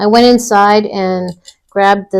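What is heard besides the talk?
No everyday noises stand out.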